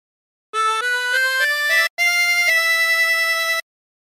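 A harmonica plays a short phrase of a song, clear sustained reedy notes stepping through several pitches, then a brief break and a longer held tone, alone and close.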